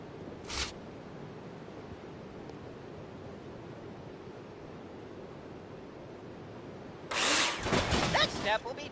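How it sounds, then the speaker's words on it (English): A power drill in the Builder Simulator video game takes down scaffolding, with a short whirring burst early, then a longer harsh, buzzing run near the end over a steady, soft ambient wash. "dismantle your scaffolding with drill"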